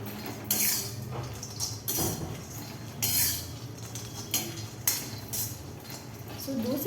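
Peanuts roasting in a pan over a high-to-medium flame, stirred steadily so the nuts rattle and scrape against the metal in a continuous, close clatter while someone talks over it.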